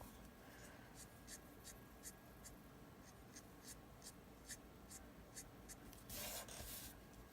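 A marker stroked over flicks on paper in darker brown, making a run of quick, evenly spaced scratchy swipes close by, with a longer rubbing stroke near the end.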